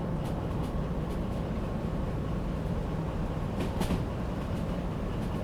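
Train running in the Derail Valley game, a steady rumbling roll with rattling wagons and occasional sharp clanks from the cars, loud and continuous throughout.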